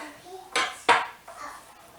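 A knife chops asparagus on a board with two sharp, close cuts in quick succession, followed by a softer third tap, while faint voices murmur in the background.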